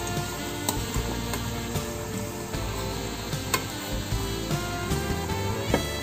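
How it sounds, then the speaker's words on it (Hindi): Pakoras deep frying in hot oil, a steady dense sizzle and bubbling that holds at an even level throughout, with occasional stirring clicks near the pan. "हम लोग पकौड़ों को अच्छी तरह से दोनों तरफ से हम लोग डीप फ्राई कर लेंगे"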